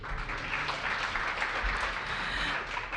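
Audience applause at a morning public event in Washington, D.C., a steady wash of clapping from a crowd held at an even moderate level throughout with no voices.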